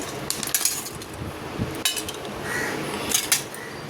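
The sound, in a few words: dishes and utensils being picked up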